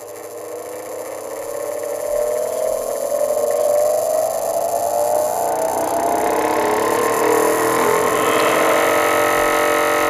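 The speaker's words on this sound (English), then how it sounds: "Once again, we turn on our grinder, let it come up to full speed." A bench grinder is switched on to sharpen a skew chisel and spins up to full speed, a rising motor whine climbing steadily in pitch over several seconds, then holding as a loud, steady hum.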